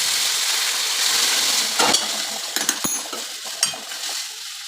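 Hot water poured onto rice frying with ginger paste in a pan for pulao sets off a steady hiss, then bursts of sizzling and several sharp metallic clinks from the utensil against the pot.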